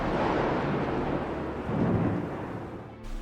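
Thunderstorm rolling over a beach, a broad continuous rumble of thunder and wind-driven rain filling the scene, swelling briefly in the middle with no voices.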